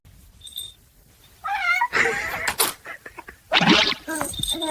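A kitten meows in several short, high calls with a few louder bursts, heard close up alongside a baby's babbling and faint talk.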